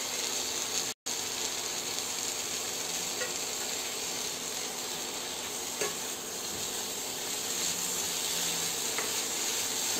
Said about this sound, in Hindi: तो अब इसमें हम पोटैटो मिक्स कर देंगे।